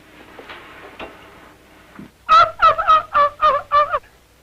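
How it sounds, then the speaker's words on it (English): A squawking bird lets out a rapid run of about six loud, laughing, turkey-like gobbling calls, preceded by quieter rustling and a few faint knocks. "That bird laughs at the strangest things."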